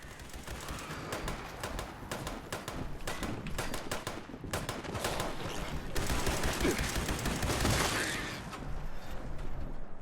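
Defensive turrets in Fallout 76 fire in rapid bursts, a dense run of sharp gunshot cracks and thuds that stays loud and steady across the whole stretch, with no voices.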